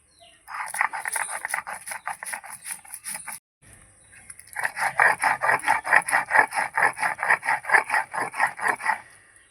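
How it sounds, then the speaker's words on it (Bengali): Mustard and poppy seed paste ground by hand, heard as rapid rhythmic rasping strokes of a grinding stone, close and loud. A brief pause falls midway before the scraping resumes in a steady back-and-forth beat. "সর্ষে পোস্তটা বেটে নেব"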